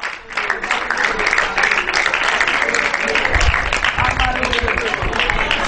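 Applause follows a goal at an amateur football match, a crowd's clapping heard under continuous excited commentary that runs through the whole stretch.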